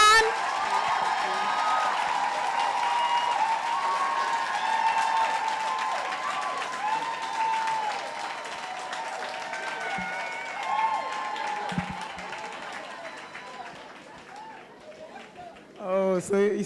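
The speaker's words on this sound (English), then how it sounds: "please, respond to her bio with a resounding round of applause" Audience applause at the launch event of the Yello Ladies Network, steady clapping mixed with crowd murmur and tonal music-like sounds for most of the span, fading toward the end with some talk.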